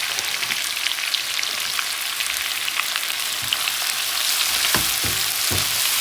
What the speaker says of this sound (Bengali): আর এখন দিয়ে দেবো হচ্ছে পেঁয়াজ কুচি, বেশি করে দেবো পেঁয়াজ।